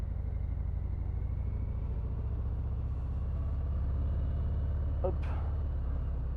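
Harley-Davidson FXDR 114 motorcycle engine under way, a steady low rumble with continuous road and wind noise, plus one brief sharp sound near the end. A rider speaks briefly.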